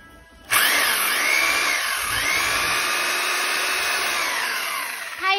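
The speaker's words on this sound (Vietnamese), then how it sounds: "Và chức năng khoan bê tông cho em này." A K94 hammer drill bores into concrete in hammer mode, a loud, steady, high-pitched whine with a rattling buzz that starts abruptly after half a second and runs continuously to the end, with no talking.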